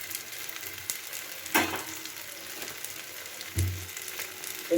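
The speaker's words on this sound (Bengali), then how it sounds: "এবার খোলা অবস্থায় এই মশলার সাথে পটলটাকে একদম ভাজা ভাজা করে নেব।" Pointed gourd frying with spices and ghee in an open pan, a quiet steady sizzle broken by a few louder stirring knocks and clatters.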